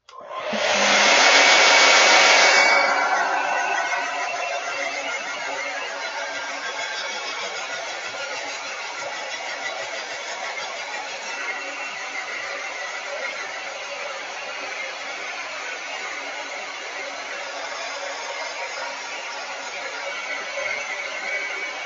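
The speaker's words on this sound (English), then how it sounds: "So I'm hoping that the blow dryer is not too loud." A blow dryer roars on loudly at close range, then settles into a steady, continuous whoosh that runs without a break for about twenty seconds.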